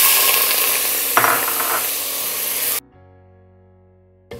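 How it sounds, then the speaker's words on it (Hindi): Chopped onions frying in a pan as they are stirred continuously until light brown, giving a loud, steady hiss and sizzle that cuts off abruptly near the end, with quiet near-silence after. "प्याज को लगातार चलाते हुए इसे लाइट ब्राउन होने तक भूनेंगे"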